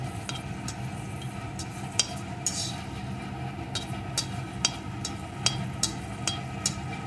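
Dry red chili frying in hot mustard oil, a steady close sizzle with scattered sharp crackles and pops through the stretch, no talking.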